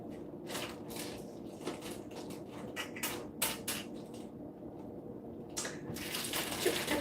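Chow mein noodles go into a pot of water in a kitchen, giving soft splashes and watery sloshing with a few sharper clatters over a steady background wash, with no talking.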